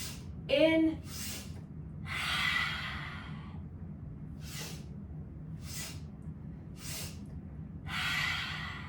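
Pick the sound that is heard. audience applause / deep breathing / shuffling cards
deep breathing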